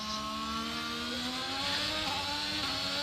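Audi Martini-liveried F1 car in the F1 22 game on a qualifying lap, its high engine whine rising steadily through the gears, with a faint shift step partway through.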